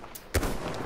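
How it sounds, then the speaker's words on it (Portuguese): A single heavy shot booms out in a Battlefield 1 match, a loud close report that rings briefly over a low battlefield rumble. "eles estão atirando em mim já"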